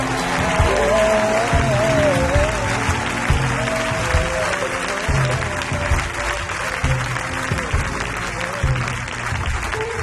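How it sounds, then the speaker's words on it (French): A church congregation claps together in a sustained, dense burst of applause lasting several seconds, fairly close and loud, with a faint voice threaded through the clapping. "Acclame, acclame, acclame, acclame"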